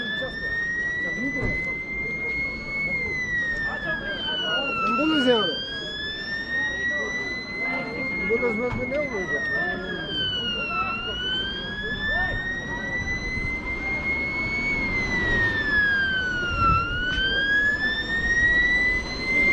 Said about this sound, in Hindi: एक एम्बुलेंस यहाँ पे आ रही है